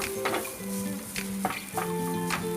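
Ground pork for a crab stuffing browning in a pan, with a steady background sizzle broken by repeated scrapes and clinks of a utensil stirring against the pan, fairly close and with no talk.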